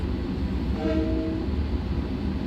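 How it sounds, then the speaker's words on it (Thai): A Long Island Rail Road M7 electric train arrives, its steady low rumble filling the scene while a brief horn-like tone sounds midway, heard close and continuous with no talking. "รถไฟมาแล้วจ้า"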